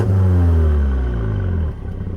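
A BMW M135i's 2-litre inline-four petrol turbo engine and exhaust rev briefly and loudly, the tone falling as the revs drop, then settling into a rougher, burbling idle.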